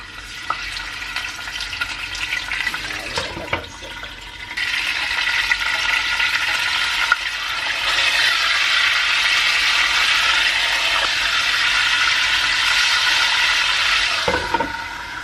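Basa fish steaks fry in a pan, a steady close sizzle that swells louder and brighter midway as more pieces hit the hot oil, with occasional clinks and scrapes and no talk.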